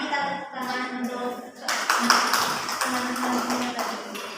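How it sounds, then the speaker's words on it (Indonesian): Classmates clap their hands in a dense, sustained burst of applause that starts after a short voice and continues steadily. "Mari kita tepuk tangan untuk"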